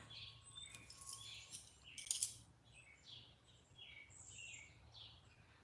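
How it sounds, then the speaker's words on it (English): A robin sings in short, bright chirping phrases, some faint and some nearer, over a low steady background hum with a brief metallic rattle partway through. "to hear the robin go tweet, tweet, tweet"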